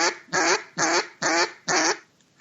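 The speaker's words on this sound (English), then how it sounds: "Repetition of quacks." A Grit Pack Calls duck call is blown to give five loud, evenly spaced quacks in a steady rhythm, close and clear, then silence.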